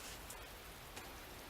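Rain falls steadily as a soft, even hiss of drops pattering on surfaces, faint and continuous through the short stretch.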